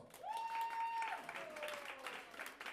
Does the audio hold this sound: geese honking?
no